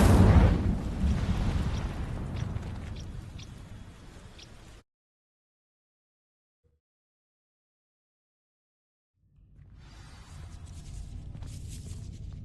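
The Incendio fire spell in Hogwarts Legacy lets out a roaring, crackling blast of flame that fades out, followed by a stretch of near silence before another rumbling fire burst rises again.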